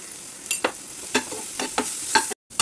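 Pasta with pasta masala, salt and red chilli powder is stirred in a frying pan: a soft sizzle under a few scraping strokes of a spatula, close and fairly quiet, ending with a brief cut to silence.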